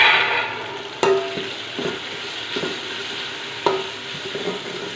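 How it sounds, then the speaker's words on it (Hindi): Garlic-ginger paste and tomatoes for chana pulao fry in a pot with a loud, continuous sizzle. Occasional clanks and scrapes of stirring rise above the hiss. No speech is heard. "हमारा जो लहसुन अदरक का पेस्ट है वो फ्राई हो चुका है अच्छे से। अब इसमें टमाटर शामिल करेंगे"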